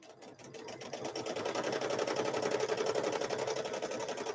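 A sewing machine quilts through a Grinch quilted handbag at medium speed, a steady, continuous mechanical whir that runs close and even for the whole stretch with no talk.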